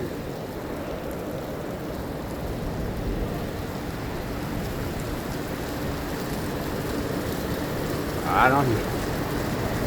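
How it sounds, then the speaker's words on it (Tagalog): Heavy rain pouring steadily in a dense, unbroken wash that fills the scene from start to finish, with a person briefly speaking near the end. "Heavy rain ha? Heavy rain."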